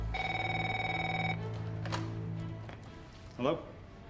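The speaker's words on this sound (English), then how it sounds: "Sal, your phone." A telephone bell in a crime action film rings in a fast repeating trill for over a second and then stops, followed by quieter movement sounds and brief voices.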